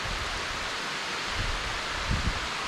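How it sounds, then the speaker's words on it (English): Heavy rain pours steadily onto trees overhead, a dense, even hiss of drops with a few soft low thumps, close and continuous with no voices. "And now it's raining pretty hard."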